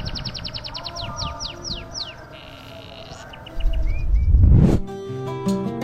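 Scaly-breasted munia, also called the Peking munia, gives a quick series of thin, high chirps, then a few softer scattered notes. A heavier low rumble and some noise come in near the end.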